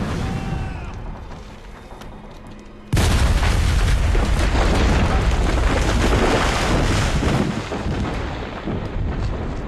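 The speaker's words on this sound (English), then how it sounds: "I'm an elemental and could probably just fire up all the gunpowder" A gunpowder blast erupts in Dungeon Siege 3, a sudden loud, deep boom that gives way to a long roaring, crackling rumble after quieter game ambience.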